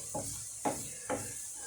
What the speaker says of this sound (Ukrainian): Зараз трохи підсмажимо морку.